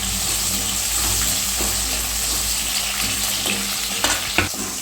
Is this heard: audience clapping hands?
no